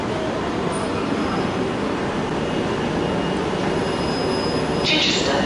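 Steady rumble of a Southern train idling at a platform at Chichester station, a continuous broadband hum with faint high squeals near the end; no talking.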